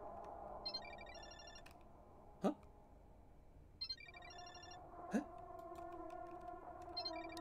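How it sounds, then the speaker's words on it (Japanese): A smartphone rings from a balcony in a horror video game: a repeating electronic ringtone pattern recurs in bursts over a steady hum of ambient game music, with sharp swooping effects cutting in twice. "アスカのスマホの音ベランダから聞こえたような。"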